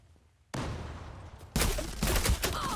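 Bursts of rapid automatic gunfire in a Zula online shooter match, a short spray followed by a louder, denser volley, close and harsh with no talk.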